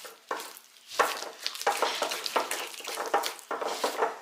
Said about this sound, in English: We'll bring it out and stir it a little bit and see how it is.